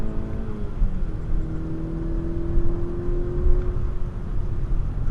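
Engine of an MK6 Golf GTI heard from inside while driving and accelerating, a steady droning hum with rising tone as it pulls through the gears, moderately loud and continuous.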